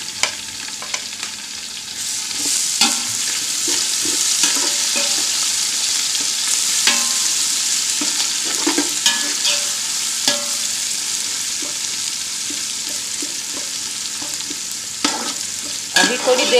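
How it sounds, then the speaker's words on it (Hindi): Garlic, ginger and onion fry in a pan for matar pulao, a continuous close sizzle broken by frequent scraping and stirring clatters from a spoon. "अभी थोड़ी देर इसको भूनते रहेंगे, ब्राउन हो जाएगा"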